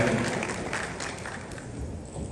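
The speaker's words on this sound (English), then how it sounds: "Please, a round of applause for her." An audience at a formal ceremony applauds, a dense wash of clapping that slowly fades over a couple of seconds.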